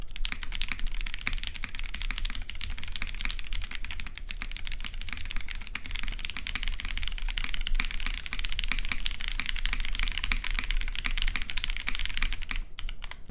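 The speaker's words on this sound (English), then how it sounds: "These are broken in Hyperglide MX Blacks on the polycarbonate case with the PPT Fans neon keycaps." Rapid continuous typing on a mechanical keyboard with broken-in Hyperglide MX Black switches in a polycarbonate case with neon keycaps, close and steady clacking with no talk.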